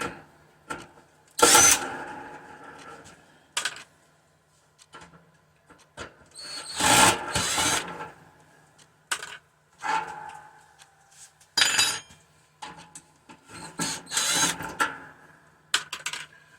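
A power drill whirs in short repeated bursts, backing screws out of the handles of a milkhouse heater, with brief pauses, clicks and handling noise between runs, close and fairly loud.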